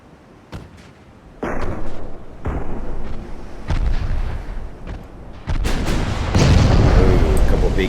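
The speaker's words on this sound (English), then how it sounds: "Get ready to fire again here." Heavy warship artillery salvos in the naval battle game Ultimate Admiral Dreadnought, with repeated loud booming shots and rumbling impacts building in intensity, a voice talking over parts of it.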